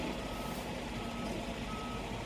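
A truck backs up with its reversing alarm sounding, a steady repeated electronic beep over a continuous rumbling engine, close and alone with no talking.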